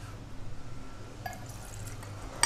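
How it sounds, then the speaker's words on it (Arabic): Water poured into a small pot over dates, a short run of pouring and dripping liquid, faint and close, with low hum underneath. "وهنضيف ليها المية"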